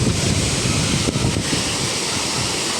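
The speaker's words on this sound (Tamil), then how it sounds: "இந்த பக்கம் நல்லா தண்ணி ஓடுது" Water rushes and flows at Manimuthar waterfall in a dense, loud, continuous roar close to the microphone, with no voices and no break in the sound.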